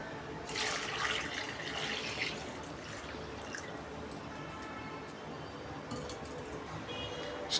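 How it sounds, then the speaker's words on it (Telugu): Water poured into a pot on a kitchen stove for an egg curry with dried fish, a steady splashing rush that is strongest at first and then settles into a softer continuous flow. "వాటర్ అయితే వేసుకుంటున్నాను."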